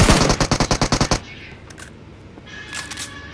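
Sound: gunfire in video game PUBG Mobile

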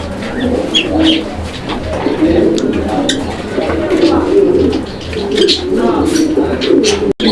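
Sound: male pigeon cooing

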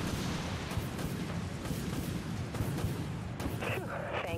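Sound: torpedo launch and explosions in Dreadnought video game

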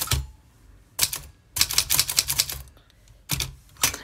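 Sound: typing on a cursive typewriter

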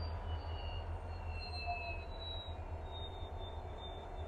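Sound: train moving on rails

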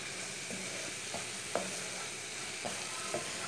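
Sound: frying okra with cream, stirring with a spoon

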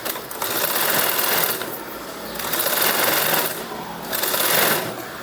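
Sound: sewing machine stitching blouse waistband strip

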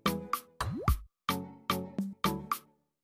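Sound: boiled chickpeas added to gravy in a pan

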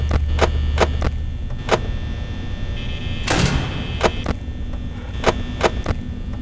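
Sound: security doors closing in Five Nights at Freddy's video game

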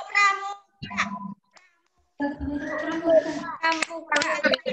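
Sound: children doing the scout clap

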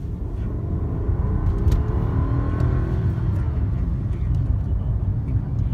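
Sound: Rolls-Royce Ghost luxury car engine

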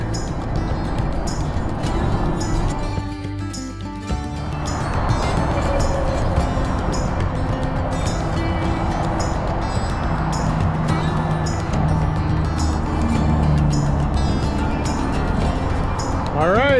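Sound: loud interstate highway traffic

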